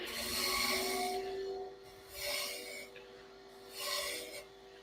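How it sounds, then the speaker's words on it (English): A wood lathe turns a rolling pin, giving a steady motor hum with a tonal whine, while a tool rubs and scrapes against the spinning wood in three rasping passes. "turn the lathe back on, let it catch up to speed a little bit,"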